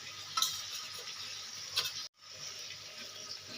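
Cumin paste and spices fry in a pan over a medium flame, giving a steady close sizzle with two sharper scrapes of stirring and a brief drop to near silence partway through.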